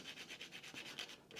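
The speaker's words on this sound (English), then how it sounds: "I'm hitting the water spray with a little bit of sanding here." Sanding a clay character sculpture misted with water spray gives quick, rhythmic rubbing strokes, close and soft, repeating about every tenth of a second, with no voices.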